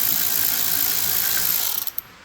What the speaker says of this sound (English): I put this thing on tighten and go onto this bolt right here. It just spins indefinitely.